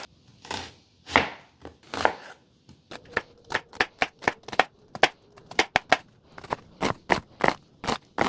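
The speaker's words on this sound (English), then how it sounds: "cut up 1/2 of an onion" Sharp knife strokes chop an onion on a cutting board, a few slow cuts then a quicker irregular run of crisp taps, close and clear.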